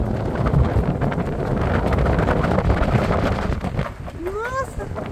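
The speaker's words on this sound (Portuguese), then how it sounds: "Nossa, que vento." Strong wind buffets the microphone on a high lookout at the Passadiço de Candosa walkway in Portugal, a loud, continuous roaring rumble, with a voice speaking briefly near the end.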